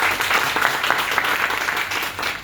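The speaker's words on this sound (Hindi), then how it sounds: "तालियां बजाइए।" A room of students applauds together, a dense, steady burst of clapping held for a couple of seconds at moderate loudness.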